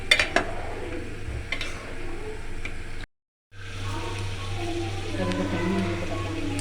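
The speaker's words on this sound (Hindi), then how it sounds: "अच्छे से मिक्स कर लेंगे।" Salt being stirred into beef yakhni pulao in a pot, a utensil scraping and clinking against the metal with a steady low cooking hiss beneath, broken by a short silent gap midway.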